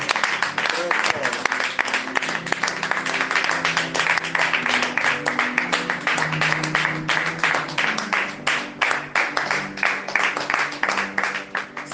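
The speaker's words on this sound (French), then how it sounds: "Nous acclamons encore très fort" Congregation clapping steadily at an intense prayer evening ending a novena to Saint Rita, a loud sustained roll of applause mixed with singing or voices throughout.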